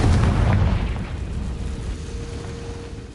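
A Confringo blasting spell bursting in Hogwarts Legacy, a heavy booming explosion up front that rolls off into a long, fading rumble, loud and close with no talking.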